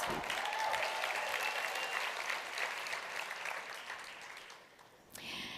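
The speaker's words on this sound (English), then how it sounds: "Give yourself a round of applause." A large audience at a network marketing talk gives a round of applause, steady clapping that gradually fades before a brief new burst near the end.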